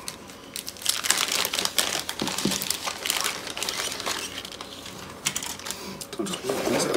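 Thin plastic bag crinkling and rustling as a 1/72 scale ClearProp A5M2b Claude model kit is unpacked, close and busy with irregular crackles throughout, with a brief voice partway through.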